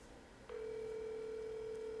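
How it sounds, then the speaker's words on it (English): A single steady telephone ring tone begins after a short quiet moment and holds continuously, moderately faint, with no voices over it. "It's just ringing."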